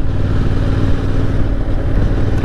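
A Honda Hornet motorcycle engine runs loud and close in a steady, dense rumble that holds an even level throughout, with no voices.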